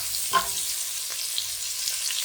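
Meatballs browning in a frying pan for Italian wedding soup, giving a steady close sizzle and crackle of frying with a few soft stirring knocks.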